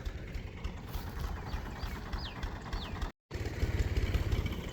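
Tractor engine chugging steadily at close range beside a rice field, a continuous low rumble with a brief dropout partway and faint bird chirps above it.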